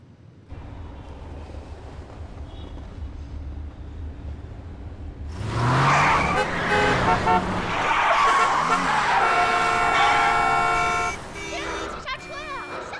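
City road traffic swells into a burst of car horns and a screech of sudden braking. Car engines rumble low before and after, and people talk over the noise.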